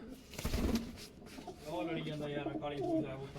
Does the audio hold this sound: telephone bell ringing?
no